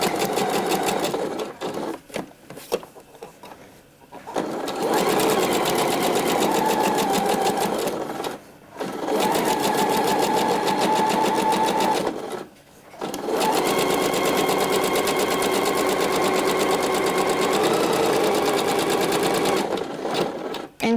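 A sewing machine stitches a handkerchief hem on a blouse, running in long steady bursts of rapid mechanical whirring, close and loud, broken by brief pauses between runs.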